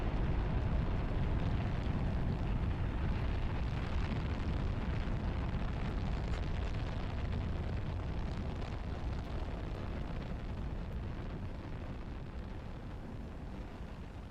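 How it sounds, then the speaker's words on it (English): A rocket launches in the video game The Last Caretaker, a loud, sustained, rumbling roar that holds steady for many seconds and slowly eases off toward the end, with no voices over it. "Another rocket."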